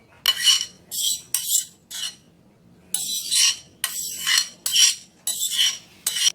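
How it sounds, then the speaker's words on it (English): Spoon and utensils clink and scrape against a small bowl as coleslaw is moved into it, in a series of close, bright bursts separated by short pauses. "we're just going to move our coleslaw into our tiny bowl"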